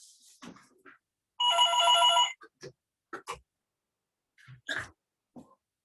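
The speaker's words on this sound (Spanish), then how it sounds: "no desconecté el teléfono, así que sonó" A telephone rings once in a short burst of about a second during a seminar lecture in an otherwise quiet room, with a few faint scattered sounds around it.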